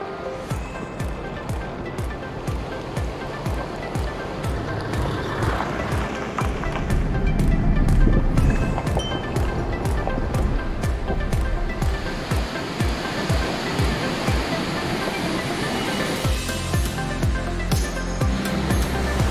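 Gegsky waterfall in Abkhazia roaring loudly and continuously, a dense close rush of falling water that swells slightly partway through, with no voices.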